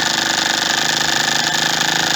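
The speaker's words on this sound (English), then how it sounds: "That's a piston slap, I suppose." A Yamaha DT motorcycle engine idles with a steady, fast pulsing rhythm and a faint metallic knock from piston slap, loud and close with no talking.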